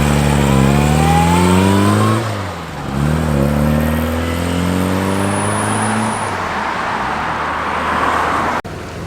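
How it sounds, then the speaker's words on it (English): A Volvo 850R Estate pulls away from a car meet, its engine revving hard through rising gear changes. The loud, close roar fades slightly as the car drives off, and no one speaks. "There goes the 850R Volvo Estate."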